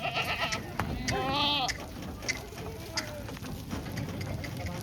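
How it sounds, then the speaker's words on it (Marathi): Rajasthani Marwari goats bleat nearby, one loud wavering cry followed by a fainter one, amid a busy background of rustling and movement. "हे बघा डायरेक्ट जंगलात फिरणारा शेळ्या आहे"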